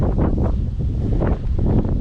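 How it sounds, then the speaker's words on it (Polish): Gusts of wind buffet the microphone with a low, roaring rumble that swells and dips, with no talking. "wam trochę tu wiatr wieje"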